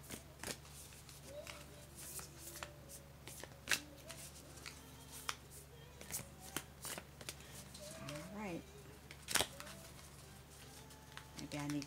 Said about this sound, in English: I need to shuffle these a little bit more.